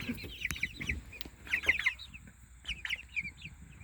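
Several chickens cluck in short bursts, a couple of quick clucks at a time with brief pauses, fairly close with light background chirps.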